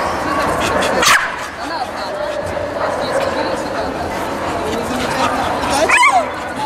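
A small dog yips and barks a few times amid people talking and chattering nearby, the barks short and sharp under the voices.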